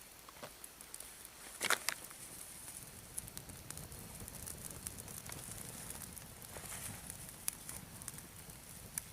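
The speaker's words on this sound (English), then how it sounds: "It's gotta be like the slowest burning bonfire I've ever seen." A slow campfire of wet cattail burns outdoors, giving steady soft crackling and hissing with scattered sharp pops, one louder snap early on, and no talk.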